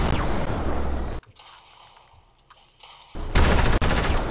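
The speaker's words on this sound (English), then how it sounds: "Why did I try shooting? Kill him, Odin." Loud Fortnite gunfire arrives in a dense rapid burst, drops to a quieter stretch of scattered game sounds, then resumes as another sharp volley.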